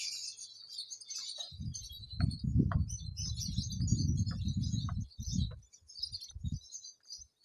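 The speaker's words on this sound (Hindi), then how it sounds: "इधर परिंदों का भी शोर थोड़ा सा कम हो गया" Many small birds chirp and call continuously in high twittering bursts during summer care of pet birds, with low rumbling handling noise and thumps underneath from about 1.5 seconds on.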